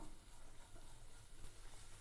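Continuous sizzling and frying of onions in a pan, a soft hiss with occasional stirring scrapes, close up and fairly quiet, with no voices.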